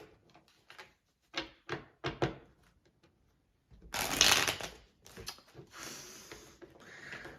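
A small deck of playing cards being shuffled by hand, with several crisp riffling bursts, then a longer, louder riffle and bridge near the middle followed by more shuffling, close and without talk.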